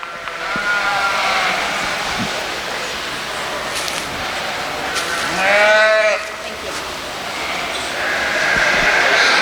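Sheep and yearling ewes at a livestock show ring, with a few bleats rising over a crowded hall's murmur and distant voices, one clear bleat standing out midway.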